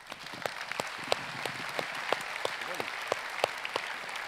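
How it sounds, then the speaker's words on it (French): Applause from the audience at a business employers' organisation general assembly, a thin patter of individual claps with sharper standout hits spread across the clip, fairly quiet and steady. "Jean-Luc Chauvin, applaudissements."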